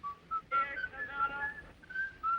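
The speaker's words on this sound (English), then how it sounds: "it was Lang himself who whistled Griegs in the Hall of the Mountain King" A man whistles Grieg's In the Hall of the Mountain King in an old film, short clear melodic phrases with brief gaps, bright and close, alone without talk.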